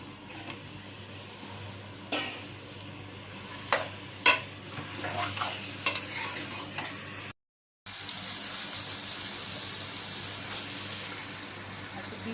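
Yogurt-marinated meat goes into a hot pot, giving a steady sizzle with intermittent scraping and clanking stirs, close and without talk.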